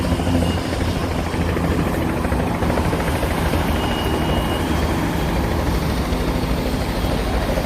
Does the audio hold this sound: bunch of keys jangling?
no